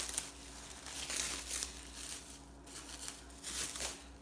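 A wrapped cake from City Cakes being unwrapped, with soft crinkling and tearing of wrapping in irregular bursts, fairly quiet and close with no talk.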